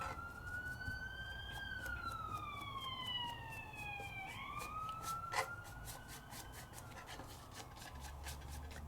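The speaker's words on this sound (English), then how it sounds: "Oh, there's the sirens." Emergency vehicle sirens wail outside, rising and falling in long sweeping tones at a moderate distance, faint but steady over a quiet indoor room with scattered small rustling sounds.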